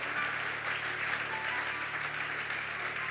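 Church congregation applauding steadily, a dense continuous clapping from many hands that holds the same level throughout, with no talk over it.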